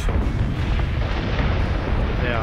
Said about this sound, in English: missile strike on the Arachne. They are gone.